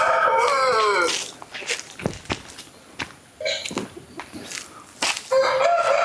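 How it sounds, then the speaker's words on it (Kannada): Native country chickens at a large poultry farm crow and cluck, a rooster call opening and another near the end, with footsteps and scattered clucks between. "ಬನ್ನಿ ಆ ಕೋಳಿಗಳನ್ನು ನೋಡುವ."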